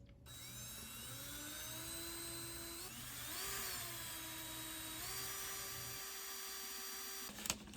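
Power drill boring into wooden drawer fronts of an old Bombay Company dresser, a steady whining motor tone with pitch shifts as the bit bites, close and continuous, no talk.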